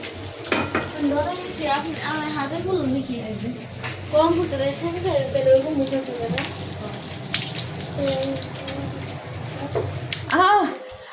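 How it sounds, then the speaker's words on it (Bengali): Pangas fish fries in hot, spitting oil with a steady sizzle and crackle close by, while someone talks over it throughout. "পাঙাশ মাছটা এভাবে ভাজি করে রাখবো"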